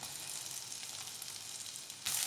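Chicken pieces sizzle in hot melted butter over a low flame, a steady close crackling hiss with no talking, rising briefly louder near the end.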